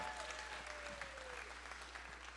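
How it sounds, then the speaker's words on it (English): Audience at a holiday fundraising gala auction gives a round of applause, a steady, fairly faint wash of clapping over a low background hum. "Let's give them a nice round of applause"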